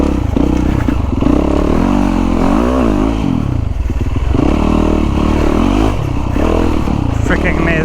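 A Yamaha YZ450FX dirt bike engine revs up and down steadily while being ridden, loud and close with rising and falling pitch, mixed with clattering and wind buffeting throughout.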